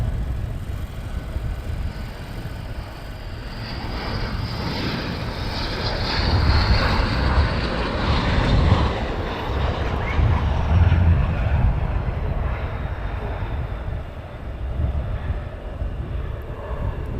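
Loud, rumbling roar of military jets, the Panthers, returning to land at RAF Lakenheath, swelling and fading in waves as the aircraft pass.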